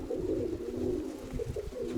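A young pigeon coos steadily and continuously up close, giving a low, throaty, warbling call with no pause.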